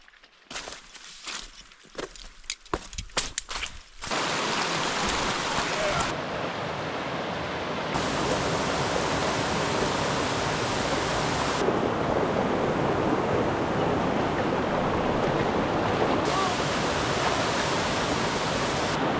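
Steady broadband rush of flowing water fills the scene after a few seconds of quieter rustling, loud and continuous from a creek crossing close by on New Hampshire's Baldface Circle Trail.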